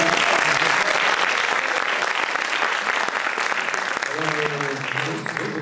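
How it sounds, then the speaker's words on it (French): Loud, steady applause from a concert audience welcoming a performer on stage before an improvised trio piece, dense clapping throughout with brief voices rising near the end. "on l'applaudit bien fort."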